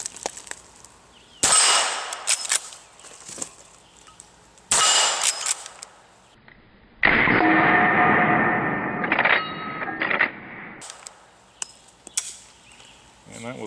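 Taurus Thunderbolt rifle firing at steel plate targets outdoors, a few sharp loud shots separated by pauses, with ringing metallic tails after the impacts.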